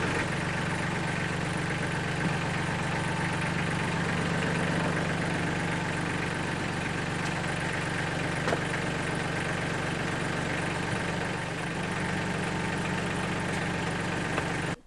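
A diesel tractor engine idles steadily, a low continuous rumble with faint mechanical knocking throughout and no talking.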